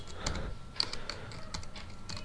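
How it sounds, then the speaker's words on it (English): Computer keyboard typing: a quick run of crisp key taps at an uneven pace, close and moderately loud, with no voices. "Simply we type it in and say hello world."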